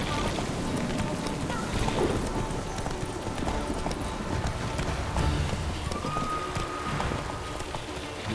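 Roach, Geralt's horse in The Witcher 3, gallops with a rapid, continuous clip-clop of hooves over a steady rain-like wash of game ambience.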